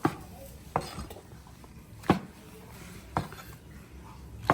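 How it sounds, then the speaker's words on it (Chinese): A knife cuts morel mushrooms in half on a board, giving about five sharp, close knocks spaced roughly a second apart over a quiet background. "羊肚菌啊，就是这样把它对半切开"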